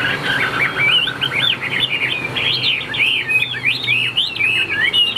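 A caged songbird sings close and loud, with rapid, bright chirps and warbling trills repeating in quick bursts over a low background hum.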